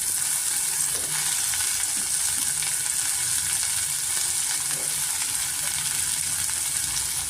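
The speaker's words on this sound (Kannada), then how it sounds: "ಈರುಳ್ಳಿ, ಕ್ಯಾರೆಟು ಮತ್ತು ಬೀನ್ಸು, ಟೊಮೆಟೊ ಎಲ್ಲ ನಾನು ಒಟ್ಟಿಗೆ ಸೇರಿಸ್ಕೊತಾ ಇದ್ದೀನಿ" Onion, carrot, beans and tomato frying together in a pan with oil, giving a steady, dense sizzle that stays loud and even throughout with no voices.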